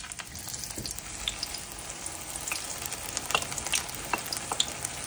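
Oil sizzles and crackles steadily as okoy fritters fry, with scattered sharp pops and a light scrape of stirring.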